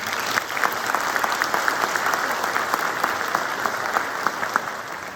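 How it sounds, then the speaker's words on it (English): Steady applause from an awards ceremony audience, many hands clapping evenly at a moderate, continuous level with no talking over it. "So let's give them a round of applause"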